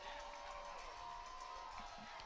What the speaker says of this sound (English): Danville crowd loving this, getting loud